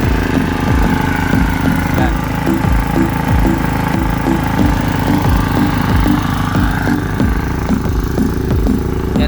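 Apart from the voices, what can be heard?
engine-driven water pump running for duck pond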